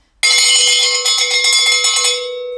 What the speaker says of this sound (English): Can we hear the bell sound again?